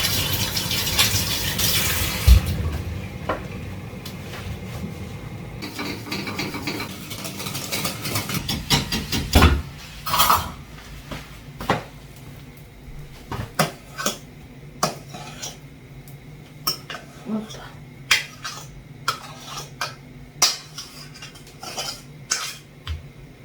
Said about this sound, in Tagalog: Bago tayo mag-start, magkugas muna ako ng pinggan.